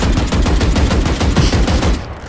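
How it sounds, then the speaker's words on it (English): Rapid, dense gunfire from the video game Valorant during a tournament match, sustained bursts that run loud and close for about two seconds before easing off. "As Pip's shooting his own teammate, Movid"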